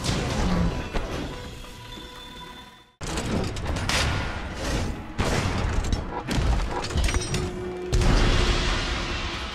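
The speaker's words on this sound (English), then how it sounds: "Keeping your guard up while moving allows you to counter with deadly thrust attacks." Lance thrust attacks in Monster Hunter World: a string of heavy, booming impacts and crashes over dense battle noise, with a sharp break and fresh hits following, loud and close.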